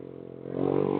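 A stunt motorcycle rides at night with its engine running steadily, building to a louder, rising drone partway through the second as the rider opens the throttle for wheelies.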